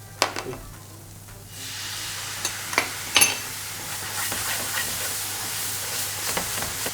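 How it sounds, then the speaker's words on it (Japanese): Leeks (long green onions) frying in a cleaned pan give a steady soft sizzle and hiss, punctuated by occasional sharp clicks and taps of stirring, no voices over it. "フライパン少し掃除してあげて、長ネギ炒めていきましょう。"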